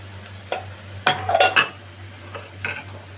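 Tomato, ginger and green chilli drop into a mixing bowl, giving a short burst of close clinks and knocks against the bowl, then a lighter clatter.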